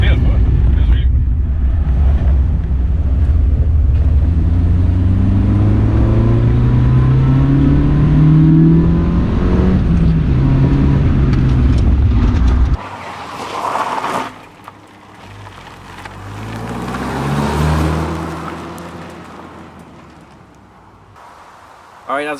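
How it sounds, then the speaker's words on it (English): Mazda MX5 on new Team Dynamics Pro Race 1.2 wheels and tyres drives with a loud in-cabin engine drone that rises and falls through several gear changes, then eases off to quieter rolling noise with wind. "Alright, that's the first spin with the new wheels, new tyres."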